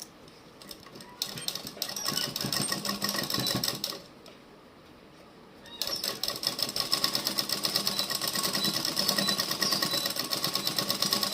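Sewing machine stitching a half-inch seam along a folded fabric edge while sewing a dress, a steady fast mechanical whir that pauses briefly and then resumes, with a voice talking over it.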